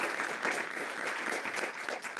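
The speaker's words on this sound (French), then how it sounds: "On va applaudir." Audience applause at a conference round-table on repression, steady clapping from a seated crowd, sustained throughout at moderate level.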